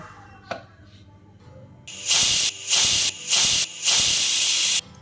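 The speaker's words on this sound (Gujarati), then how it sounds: "હવે આપણે આને ચાર વિસલ વગાડવાની છે ગેસને ફૂલ રાખી દઈએ અને ચાર વિસલ વગાડીએ" A pressure cooker on a full-flame gas stove, cooking Kathiyawadi undhiyu, lets out loud hissing steam whistles in four bursts after a quieter opening.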